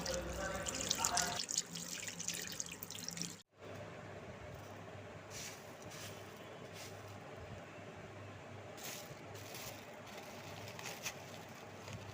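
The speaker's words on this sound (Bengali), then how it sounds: "চলো এবার হাতটা ধুয়ে" Water running from a tap into a sink during handwashing in a home kitchen, a steady close splashing stream that follows a brief louder clatter and a short gap, continuing evenly to the end.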